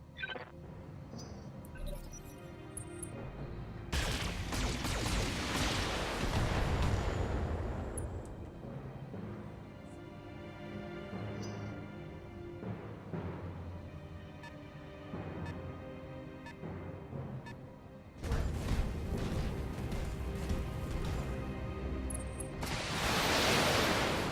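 Several deep, roaring blasts burst out and rumble away in the video game Battletech Flashpoint, separated by quieter stretches of low droning ambience, with no voices.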